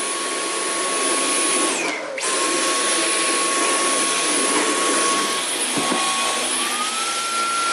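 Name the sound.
Dyson V11 Animal cordless vacuum running on auto mode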